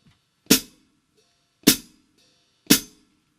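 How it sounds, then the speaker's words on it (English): Three crisp hi-hat chicks from the pedal closing the cymbals, evenly spaced and close, with brief decays between. "pushing down on the hi-hat,"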